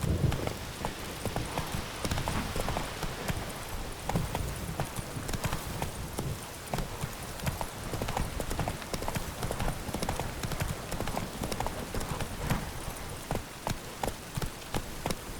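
Roach, Geralt's horse in The Witcher 3, gallops in a fast, steady stream of hoofbeats that runs close and loud for the whole stretch, with a faint rain-like wash behind it.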